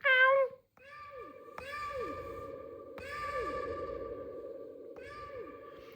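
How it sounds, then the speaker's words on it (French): Short tonal pings ring out one after another, each followed by a long swirling echo tail, like sounds in a huge reverberant hall. "j'ai ajouté de la reverb"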